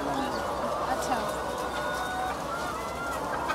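Layer hens on a 3,500-bird egg poultry farm cluck and chatter together in a dense, continuous flock din that stays steady and fairly loud throughout.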